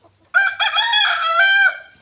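A single rooster crows once, loud and close, with a long drawn-out call on a small farm in Sibonga, Cebu; there is no talk.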